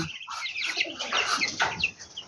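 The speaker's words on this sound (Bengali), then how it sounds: "এইগুলো হলো ব্রয়লার, ওই যে আপনার বলে যেগুলো টাইগার জাতের মুরগি" Broiler chickens of the so-called tiger breed, roaming loose on a poultry farm, cluck and squawk in a busy close-up chorus of overlapping calls, fairly loud and with no talking.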